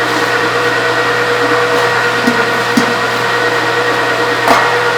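A Fabio Leonardi MR9 meat grinder grinds regular cooking onion with a constant, loud, whirring motor hum, broken only by a few faint clicks over five seconds.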